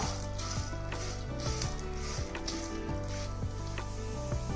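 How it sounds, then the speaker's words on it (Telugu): Chana dal fries in a pan for semiya upma, a dense steady sizzle close up with a few scattered clicks of a spoon stirring against the pan. "ఒక్క స్పూను పచ్చిశనగపప్పు వీటిని దోరగా వేగనిద్దాం"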